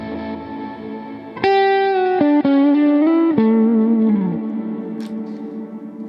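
Sustained electric guitar notes and chords through an Axe-FX Standard, drenched in delay and reverb, ringing out and trailing into echoing repeats that fade away.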